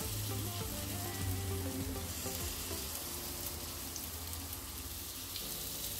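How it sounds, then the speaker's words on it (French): Spiced chicken skewers sizzle steadily in a frying pan, a continuous close crackle with faint clinks and handling sounds over a low background hum. "Et je vais poser mes brochettes directement dans ma poêle."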